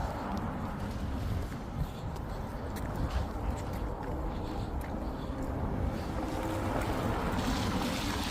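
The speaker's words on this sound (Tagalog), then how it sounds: "Sobrang lakas ng hangin, ang lamig." Strong cold wind outdoors, a continuous broadband rush with low rumbling buffets on the microphone, steady and fairly loud for the whole stretch with no clear talk.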